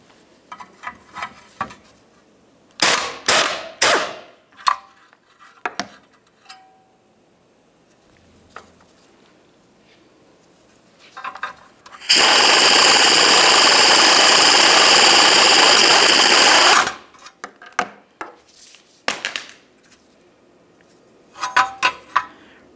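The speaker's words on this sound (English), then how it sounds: "we can remove the bracket by removing these two 13 millimeter mounting nuts" A power tool zips off the 13 mm mounting nuts from a Ford Flex exhaust bracket on a workbench, giving one loud sustained burst of several seconds, with short ratcheting bursts and clicks before and after.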